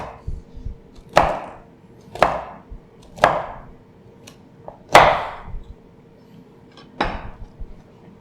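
A knife chops artichokes, tomatoes and potatoes into thin slices on a board, about six sharp, close strikes spaced roughly a second apart, with quiet handling between.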